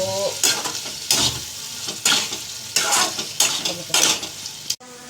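Loud bursts of sizzling as tempering spices hit hot oil for eggplant bharta, several sharp crackling surges with stirring between, close up, ending abruptly.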